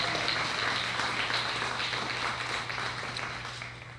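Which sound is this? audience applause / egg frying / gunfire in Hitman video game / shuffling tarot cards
audience applause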